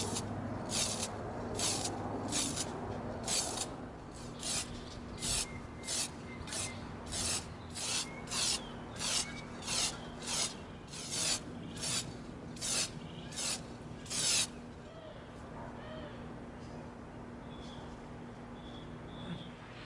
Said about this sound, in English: We're going to spray part of this with our flat antique nickel.